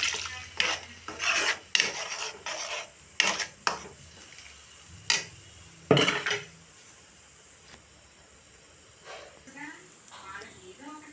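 Shells being peeled off boiled eggs for an egg curry: a close series of short, dry scratching and crackling bursts, irregular in rhythm, then quieter handling at the end.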